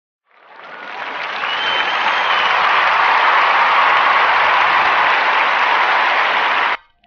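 A crowd bursts into steady applause that swells quickly, holds at full strength for several seconds, then cuts off abruptly.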